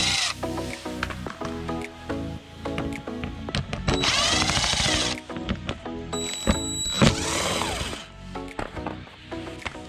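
A power drill backs out Phillips screws from the fender liner of a 2016-2018 Nissan Altima, giving several whirring bursts of varying length mixed with clicks and clatter close by.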